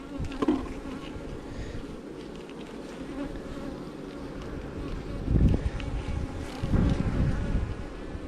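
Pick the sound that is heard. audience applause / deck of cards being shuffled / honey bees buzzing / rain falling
honey bees buzzing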